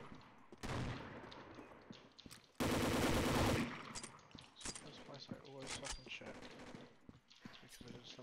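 Automatic gunfire in the Combat Arms first-person shooter rattles in a loud sustained burst lasting about a second, with scattered single shots and clicks around it while someone talks over the game.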